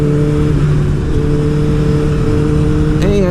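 A Honda CBR1000RR sport bike engine holds a loud, steady high-pitched drone close by, with a brief rise in revs near the end.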